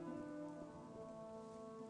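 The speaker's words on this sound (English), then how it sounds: "Oh look, it's raining again." Rain falls steadily in the video game Chronicles of Myrtana: Archolos, a continuous soft hiss of drops under sustained tonal background music, with no talking.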